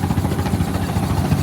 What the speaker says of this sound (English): This is a helicopter close-up.